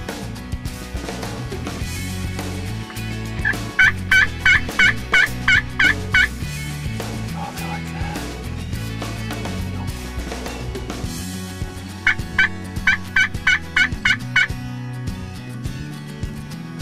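Wild turkeys in an Iowa field gobble in two rapid rattling bursts, loud and close, over a steady background of music.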